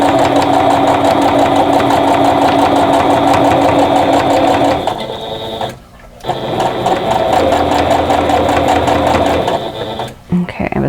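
A sewing machine running a quilt block's last seam, a loud close motor whir with fast needle clatter that briefly stops twice, then restarts.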